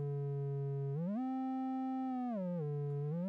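Steady, buzzy tone of a Computone Lyricon wind synthesizer that bends upward as the reed is bitten, holds a higher pitch, then drops back down; it plays alone and evenly loud.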